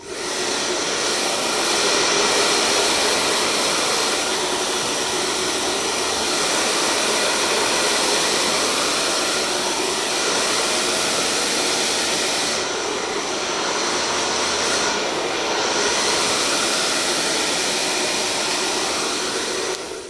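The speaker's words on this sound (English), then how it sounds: "Using the hairdryer, roots to ends." A hair dryer blows continuously at close range, a loud steady rushing whoosh with slight shifts as it moves, no voices.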